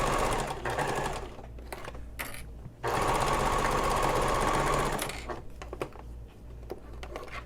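A sewing machine runs a half-inch seam on a messenger bag, stitching forward, back and forward over a thick connector, a steady close buzz with brief pauses and restarts.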